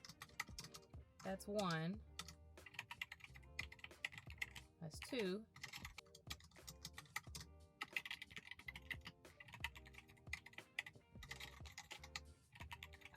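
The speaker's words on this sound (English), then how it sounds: "I know what's really popular is like the keyboard sound" AI-generated computer keyboard typing effect, a steady stream of clicky keystrokes, played twice in succession, under a woman counting the takes aloud, with background music and a couple of sweeping whooshes.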